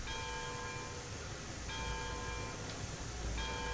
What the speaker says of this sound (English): And some bell.